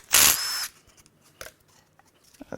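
A power tool spinning a bolt out of the oil pump of a Jeep Ram 3.0 EcoDiesel engine, one short loud whir followed by faint clinks of metal parts.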